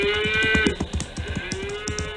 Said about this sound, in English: There goes his calf.